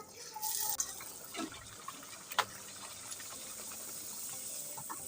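Poori dough drops into hot oil over a high flame, bringing a soft, fairly faint bubbling hiss with a few small pops and crackles near the start, then a steady low sizzle, with no voices.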